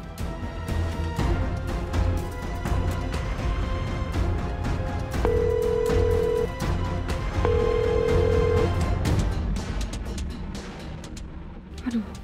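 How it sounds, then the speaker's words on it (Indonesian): A telephone call goes unanswered, with two long, even ringing tones separated by a pause. They sound beneath background music and voices in an indoor drama scene. "Tania, coba kamu telepon Nisa."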